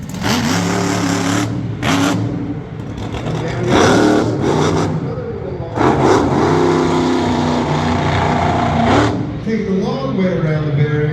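Monster truck Virginia Giant launching down a racing lane at a Middletown, NY motorsports event: loud bursts of engine roar and revving rise and fall in several surges, carried over a busy arena background.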